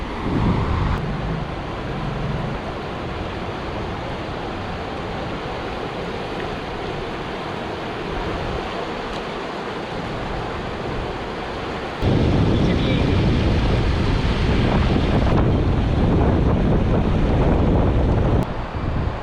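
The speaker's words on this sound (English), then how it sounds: "That's the pure river." A clear river near Chakrata rushes with a constant dense roar, heavy with wind buffeting on the microphone. The sound jumps noticeably louder partway through and stays that way to the end.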